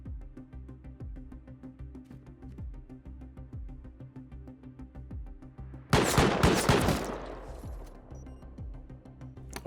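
Gunfire in the video game Rust bursts out as a loud, dense volley of rapid shots partway through, over a steady rhythmic tapping background that continues before and after.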